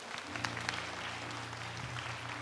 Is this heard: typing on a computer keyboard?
no